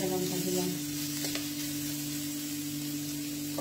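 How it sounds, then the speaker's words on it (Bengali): A green chilli goes into an omelette frying in a pan, with a steady close sizzle and a few scraping stirs early on, and no voices. "অল্প নেড়ে নিয়ে একটা কাঁচা লঙ্কা দিলাম"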